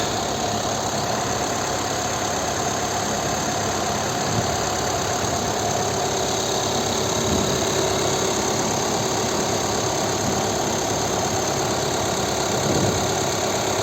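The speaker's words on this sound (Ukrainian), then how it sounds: "Ось робота двигуна" A 2011 VW Touran 2.0 TDI diesel engine idles steadily with a low, even rumble and faint rattling knock, close by, with no other sounds.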